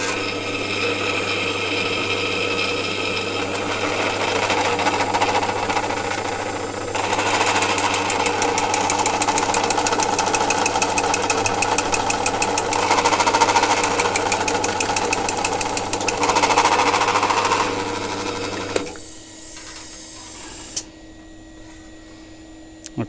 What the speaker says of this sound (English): So fire up the pillar drill and see how I get on.